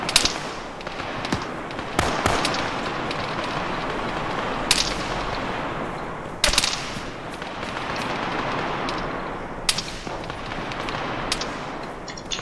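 Gunfire in the ARMA 3 military simulation, with sharp bursts and single cracks repeating irregularly over a steady roaring background, loud and close, with no talk.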